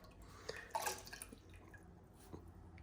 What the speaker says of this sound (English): You can just dip it in water.